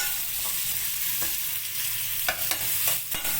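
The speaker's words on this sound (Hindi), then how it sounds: "1 प्याज मैंने चॉप कर लिया। इसको हम 2 मिनट तक फ्राई करेंगे" Chopped onion fries in a pan for chicken pasta, giving a constant crackling sizzle with a few sharper stirring clicks and scrapes near the end, close and continuous with no talking.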